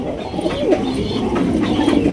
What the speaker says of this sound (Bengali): এখানে রয়েছে একজোড়া ইন্ডিয়ান নটন কবুতর